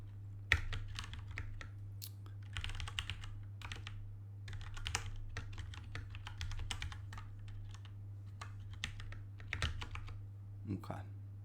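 Steady computer keyboard typing for a Rust programming session, quick irregular keystroke clicks in bursts throughout over a constant low hum, close and moderately loud.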